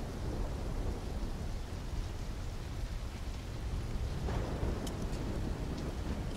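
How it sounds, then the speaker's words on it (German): A thunderstorm in the video game Call of Duty Black Ops III: constant heavy rain hiss under deep rumbling thunder, loud and unbroken, with a few sharper cracks near the end. "Mitnehmen, bevor der Sturm noch heftiger zuschlägt."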